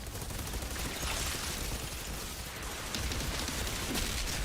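Frag grenade blast and rapid gunfire in a post-apocalyptic wasteland shooter game, a dense, steady barrage of overlapping shots and bursts filling the whole stretch at constant loudness.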